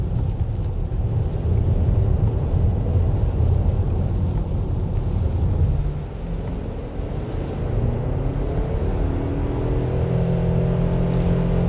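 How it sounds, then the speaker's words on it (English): 2021 Suzuki Across scooter with a CVT, engine droning loudly and steadily while riding, its boomy tone shifting and rising toward the end, with wind and road rush underneath. "Oh, that engine's getting boomy."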